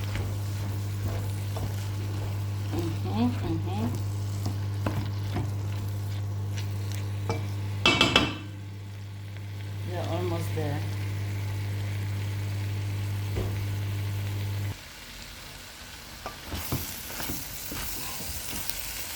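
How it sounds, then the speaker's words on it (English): Steady sizzling and crackling of cabbage frying in a pan, with occasional scraping stirs and a brief clatter midway; a voice speaks briefly. "do you see it's frying"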